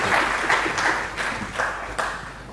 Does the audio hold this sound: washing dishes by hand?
no